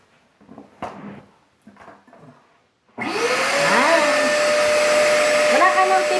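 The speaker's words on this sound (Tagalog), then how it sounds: "gagamitin na natin yung vacuum para higupin po siya" A wet and dry vacuum sucks water out of a soaked pillow. A few seconds of faint handling noises come first, then the machine starts with a loud, steady whining roar that carries on to the end.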